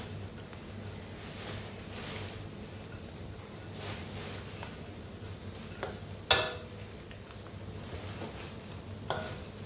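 Pork rinds fry in rendered pork fat over high heat, giving a steady, fairly quiet sizzle with a couple of sharp utensil clanks.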